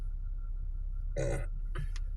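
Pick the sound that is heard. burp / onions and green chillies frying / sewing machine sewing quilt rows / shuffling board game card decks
burp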